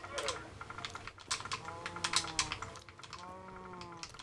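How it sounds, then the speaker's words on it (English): Rapid, uneven typing on a computer keyboard during a Minecraft Skyblock livestream, close and fairly quiet, with clustered keystroke clicks and a faint voice and harmonic tones underneath. "Hold on, let me type."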